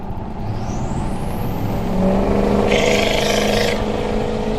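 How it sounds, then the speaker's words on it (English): A 6.0 Powerstroke diesel truck engine gives a steady, heavy drone with a low rumbling exhaust note, holding a constant idle-like tone throughout, close by, with no talking. "I don't know if I can get any exhaust noises"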